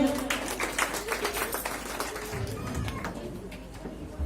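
Crowd applause at an award ceremony, a dense wash of many hands clapping with some chatter and voices mixed in, steady throughout.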